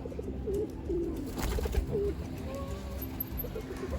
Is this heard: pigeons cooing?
yes